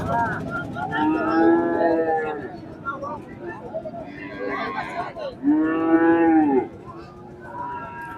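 Friesian calves moo loudly twice, long drawn-out calls close by, with brief voices heard between them.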